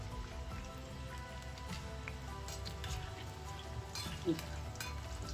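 Suran (yam) filled samosas deep-frying in hot oil, a faint continuous bubbling sizzle with soft crackles and one brief louder pop, steady throughout.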